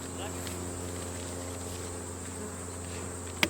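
A steady drone of honey bees buzzing around a recently requeened beehive, a constant close hum with a faint higher whine above it and a brief knock near the end.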